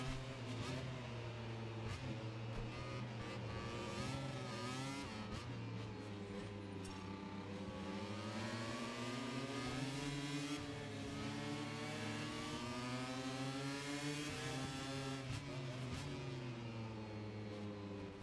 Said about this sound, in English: we'll just be quiet into the first couple of corners so you can hear the engines